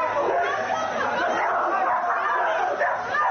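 Dogs barking and yipping during a street quarrel between their owners, with agitated human voices and chatter mixed in continuously over the barks.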